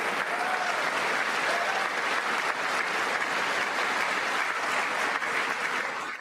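Sustained applause fills a large chamber during a State of the Union address, a dense, steady wash of many hands clapping for several seconds before tapering at the end.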